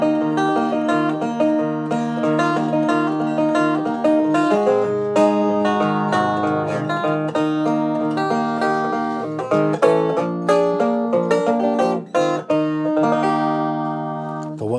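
A heavy resonator (cone) guitar with a solid body, played plugged in with a pickup: continuous loud twangy notes and ringing chords with sharp plucked attacks, played alone without talk.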